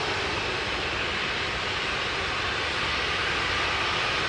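Aircraft taxi at Sydney Airport in a steady, broad engine rumble and whine that stays constant and fairly loud throughout, without speech.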